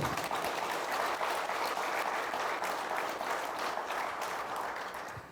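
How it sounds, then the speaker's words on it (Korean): A hall of attendees at a construction association's annual general meeting gives a council chairman sustained, dense applause that holds steady and then begins to taper off near the end. "우리 배한철 의장님께 더 큰 박수를 한번 해주세요"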